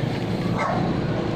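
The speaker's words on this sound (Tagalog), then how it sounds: "Yan, yung mga aso." Several dogs bark and yip outside a second-floor portion of a house in a subdivision, a loud, busy overlapping chorus with some whimpering mixed in.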